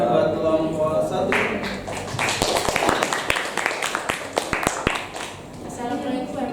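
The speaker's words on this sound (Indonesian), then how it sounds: "Tepuk tangan buat kelompok 1." A classroom group gets a brief round of applause after a presentation: scattered, sharp claps rise for a few seconds among a murmur of voices, then fade as talk carries on.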